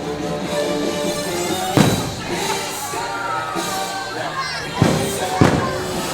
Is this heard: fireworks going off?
yes